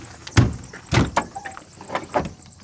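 Bonnet of a Land Rover 4x4 being opened, a few sharp metallic clunks and a latch rattle close by, with no talk.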